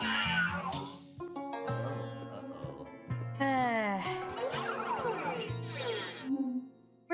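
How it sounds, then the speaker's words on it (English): A cartoonish cat in Luigi's Mansion 3 meows and yowls over and over amid busy game music and effects. The cries are loud, close and rise and fall in pitch. "Get back here, you crazy cat."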